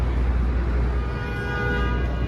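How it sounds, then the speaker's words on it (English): City traffic in New York's downtown Financial District near the Oculus, a loud continuous low rumble of vehicles with a sustained horn-like tone sounding through part of it, no talking. "Yep, city traffic. That's what you hear."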